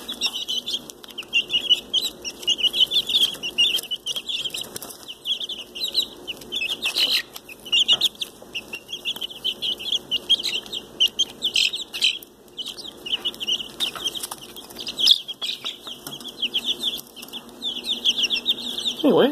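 Many Öland dwarf chickens peep and cluck continuously while feeding, with occasional wing flutters, a busy, dense chorus close by with no talking.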